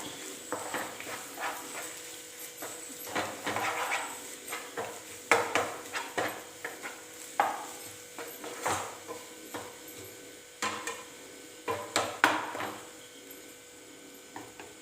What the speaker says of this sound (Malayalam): ഇനി നമുക്കതിലേക്ക് രണ്ട് മുട്ട ഉടച്ചൊഴിക്കാം പാകത്തിന് ഉപ്പും ചേർത്ത് നന്നായിട്ടൊന്ന് ചിക്കിയെടുക്കണം